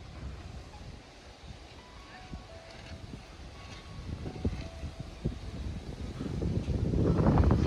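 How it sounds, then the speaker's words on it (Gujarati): Gusty wind from a summer storm roars against the microphone, building steadily louder toward the end, with a voice talking faintly underneath. "પવનનો મને અવાજ આવે છે"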